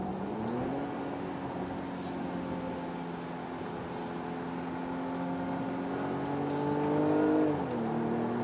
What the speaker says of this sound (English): We're going to get it up to speed and we're going to see how well this thing is going to accelerate.